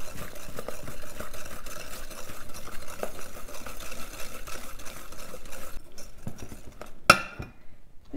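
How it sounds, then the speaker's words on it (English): Sugar being whisked together with other ingredients in a bowl for a chocolate zucchini cake, a steady rapid scraping and clinking of the whisk against the bowl that runs for several seconds and then stops. "That in together, and I'm going to whisk those up together."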